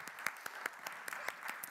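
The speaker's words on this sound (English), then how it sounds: "Let's give them a clap as they come on up." Audience clapping at a church family service as helpers come forward, a brief patter of many hands with irregular sharp claps, steady and moderately near.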